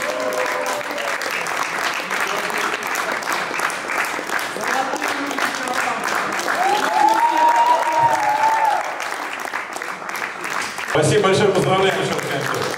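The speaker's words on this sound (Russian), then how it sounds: "а мы все хлопаем, продолжаем" Audience applause fills a volleyball club's preseason press conference, steady and close throughout, with someone speaking over it and a louder burst of clapping near the end.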